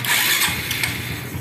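A motorcycle converted from carburetor to fuel injection cranks and catches, its engine starting close up with a brief rising mechanical rumble.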